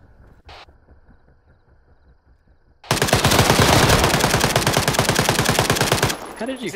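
Video game gunfire, a sustained rapid burst of machine-gun shots that starts suddenly after a quiet stretch, loud and close, then cuts off into softer game noise.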